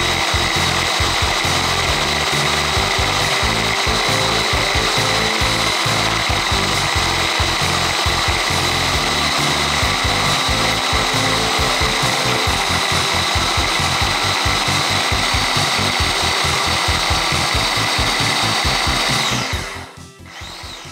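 A SwissThomas capsule food chopper blender runs continuously while chopping apple, a steady, loud, close motor whine with rapid rhythmic chopping pulses, then it winds down abruptly at the end.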